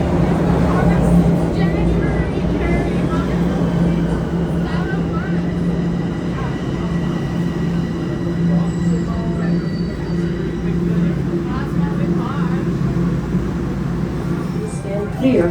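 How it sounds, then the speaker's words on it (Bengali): A Toronto subway train pulls into a station with a loud, continuous rumble and wheel squeal, and people talk over it. "ট্রেনটা আসতেছে"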